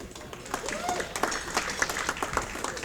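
Applause for an inductee at a golf hall of fame ceremony, a steady crowd clapping in a hall with a voice speaking over it, moderately loud and continuous.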